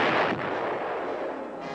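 A self-propelled 155mm howitzer fires, giving one heavy, broad blast that rolls on as a long, loud rumble through the whole short stretch.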